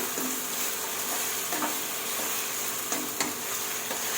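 Steady hissing sizzle of chicken with lemongrass stir-frying in a hot pan, with occasional scraping taps of a utensil stirring, close and continuous.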